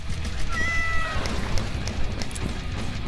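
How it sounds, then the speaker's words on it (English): A cat meows briefly in the video game Vampire Hunters, a short rising mew over a dense bed of continuous game noise and clatter. "That was a kitty cat doing something."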